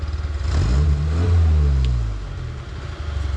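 A vintage vehicle engine with a faulty carburetor revs up and falls back once, a loud nearby rise and drop in pitch with rough, uneven firing and no talk.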